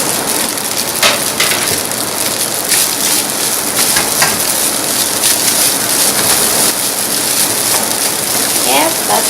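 Chinese fried rice with spring onions sizzles loudly in a pan, a constant dense crackle with occasional clicks and scrapes, with no talking.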